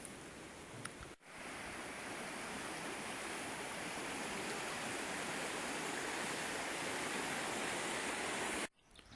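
The River Lee flows beside a country pub with a steady, dense rushing hiss that runs unbroken for most of the stretch, fairly faint, with no voices.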